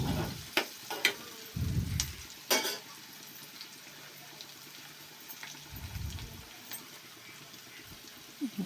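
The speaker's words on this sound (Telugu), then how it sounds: "వంకాయ ముక్కలు కూడా వేసి వేయించుకోవాలండి" Eggplant and onion pieces sizzle quietly in a pan with soft intermittent frying crackle, broken by a few louder stirring scrapes and clatters.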